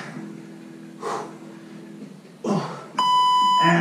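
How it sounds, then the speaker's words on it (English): A workout interval timer sounds a sustained electronic beep at the end of a rear-delt exercise set, loud and steady, after heavy breathing and brief gasps. "Keep going until they hit the beep."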